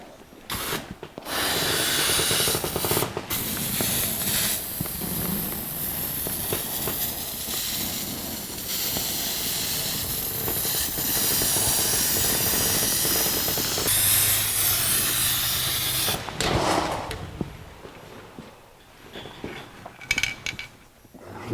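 A spray gun lays a first coat of paint on the firewall of a 1982 Jeep CJ7, producing long hissing bursts of spray with short pauses and faint handling clatter between them, and no one talking.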